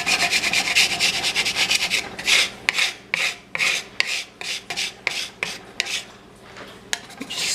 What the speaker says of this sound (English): I'm just scraping because the last step